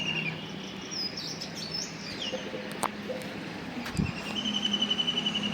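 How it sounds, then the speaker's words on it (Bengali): Birds singing around a rooftop, a mix of chirps, tweets and a dove's coo at moderate distance, with faint car traffic in the background. "এই দেখেন ছাদের উপর থেকে কত সুন্দর পাখির আওয়াজ আসতেছে,"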